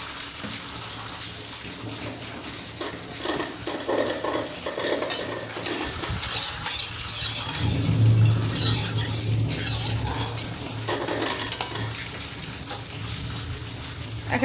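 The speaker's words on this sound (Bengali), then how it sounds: "কড়াই গরম হয়ে গেছে, দিয়ে দিলাম এবার সরষের তেল। মাছগুলোকে ভাজবো।" Mustard oil sizzling in a hot kadai, ready for frying bam fish (eel): a steady, loud hiss and crackle that runs the whole clip, with a few utensil sounds along the way.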